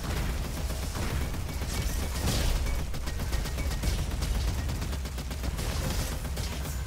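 Dual Vipers weapon firing in the sci-fi shooter game Roboquest, a steady, dense stream of rapid shots running continuously at close range over a busy game soundscape.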